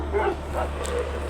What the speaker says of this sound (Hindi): पीछे से फिर से एक कुत्ता जोर से भौंकने लगा।